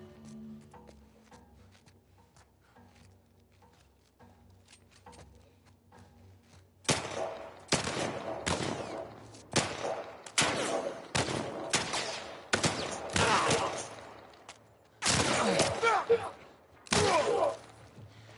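Gunfire in The Last of Us remake during a firefight: after a quiet stretch, a run of loud, sharp shots and bursts fires in uneven clusters with brief pauses, while voices are heard talking.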